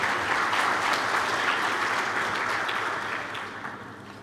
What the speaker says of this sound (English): Do you want to give her the last round of applause?